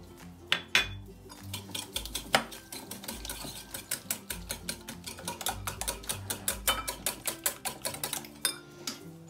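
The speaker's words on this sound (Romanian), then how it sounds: "O să frecăm puțin ouășoarele cu" Eggs beaten with sugar in a bowl for spoon doughnuts, a whisk or fork clinking rapidly and rhythmically against the bowl in steady close bursts, with no voices.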